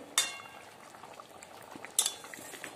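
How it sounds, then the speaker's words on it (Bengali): Eggplant curry bubbles in a pot with a soft, low simmering murmur, broken by two sharp metallic clinks of a utensil against the pot. "জাস্ট একবার একটু ফুটবে, ব্যাস নামিয়ে দেব।"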